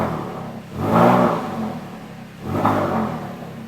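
A car engine revs up twice in quick blips, rising and falling back to a low idle rumble between them, close by with no voices.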